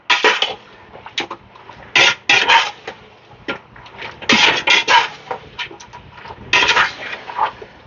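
Lamb and onions are stirred in a cooking pot, with bursts of spoon-on-metal clatter and scraping that come in irregular clusters over a quiet background. Nobody speaks.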